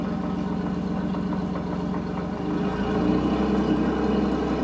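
Suzuki DF50 50hp long-shaft tiller outboard motor, a 2024 model, idling then shifting into forward gear with no load, a steady mid-pitched engine hum that deepens and grows slightly louder partway through, with faint clunking.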